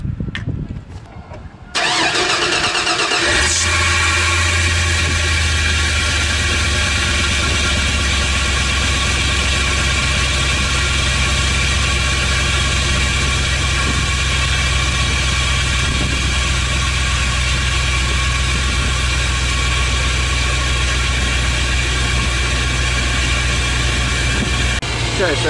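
A cold truck engine cranks briefly, catches and settles into a loud, steady idle that runs on without a break.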